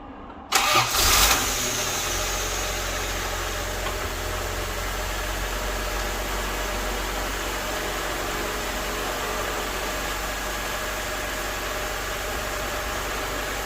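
A Honda Civic EF sedan engine under restoration cranks briefly and catches, then settles into a steady, even idle that drones on unchanged, close and moderately loud, with no voices.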